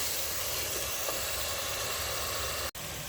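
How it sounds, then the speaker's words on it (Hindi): Chopped medium-size onions hit hot oil in a pan while making spiced chickpeas, giving a steady, loud, broad sizzling hiss that runs unbroken for about three seconds, with one brief dropout near the end. "हमारा ऑयल गर्म हो चुका है, तो अब हम इसमें ऐड कर देंगे चॉप्ड अनियन।"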